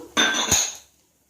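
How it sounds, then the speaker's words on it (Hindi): Chopped vegetables dropped into a pan with onions, a single brief clattering tumble with a metallic clink, close and fairly loud, then fading to quiet. "अब हम इसमें ये सब सब्जियां डाल देंगे।"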